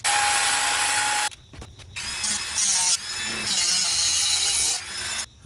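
An electric rotary tool grinds down extra-long 30mm screws for a Campfire Quads CF1-X drone build. Loud, close, high-pitched whining bursts are separated by short pauses, and the tone shifts as the cut bites.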